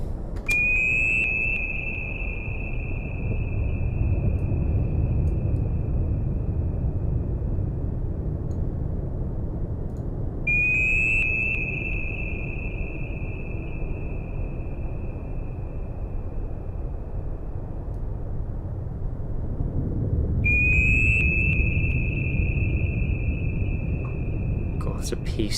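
Three long, piercing active sonar pings from the submarine game Cold Waters, each a steady high tone lasting several seconds and repeating about every ten seconds over a constant low underwater rumble.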